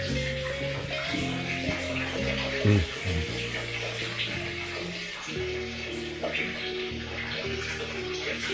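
Water at a holy spring font beside the ruined 18th-century church of St. John the Righteous near a monastery in Veliky Ustyug, heard as a steady nearby splashing, trickling flow with faint background voices.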